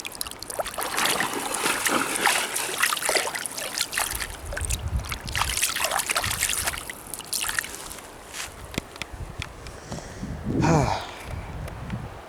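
Creek water trickles and splashes nearby on a hike, a soft continuous babble with a few sloshing bursts toward the end.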